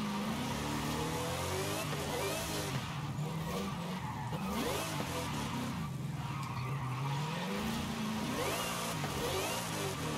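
Car engine in Forza Horizon 5 revving hard and continuously while drifting, with the pitch rising and falling through gear changes and steady tyre skidding throughout, loud and close.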